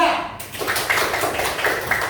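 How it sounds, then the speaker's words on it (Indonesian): A fifth-grade classroom claps for a group of students, a short burst of children's hands clapping after a brief moment of talk, fairly close and moderately loud. "tepuk tangan buat kelompok 3"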